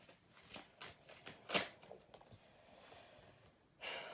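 Tarot cards being shuffled and drawn during a reading, a series of soft papery riffles and flicks with a louder burst near the middle, fairly quiet and close, with no talking.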